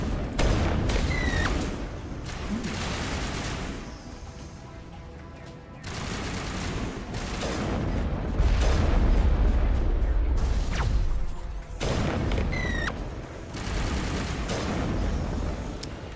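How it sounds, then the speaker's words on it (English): Rocket blasts and heavy gunfire during a firefight in the video game Mass Effect, at the Virmire level, with loud repeated booms and bursts over a dense, continuous battle din. "I must say that was a rocket through there."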